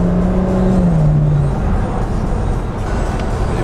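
A BMW 335i convertible's engine climbs under acceleration, a loud sustained drone with a rising tone heard from inside the car, no talk over it.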